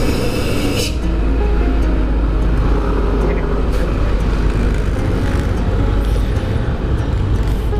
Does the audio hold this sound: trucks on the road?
yes